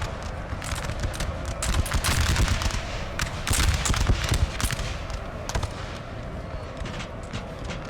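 Skirmishers firing muskets in Napoleon Total War, a dense, continuous crackle of overlapping shots with low rumbling booms, heavy and close throughout.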